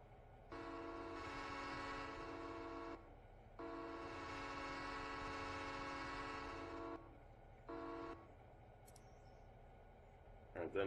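A multi-chime train horn resembling an Amtrak horn in the Railroader video game with a mod, blown in two long sustained blasts and a short final toot, steady and clear, with a few faint clicks after.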